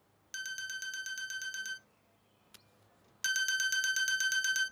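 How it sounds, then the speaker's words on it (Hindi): A mobile phone rings with an incoming call, two bursts of a rapid electronic trilling ringtone separated by a short pause, loud and close with nothing else over it. "मेरे बॉस का फोन आ रहा है सर,"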